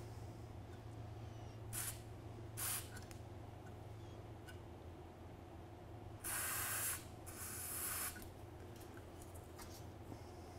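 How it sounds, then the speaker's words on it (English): A can of lubricant sprays onto the window mechanism of a car from around 1966, in several short hissing bursts, two brief ones and then two longer ones, over a quiet background hum. "So we're going to take the can of lubricant."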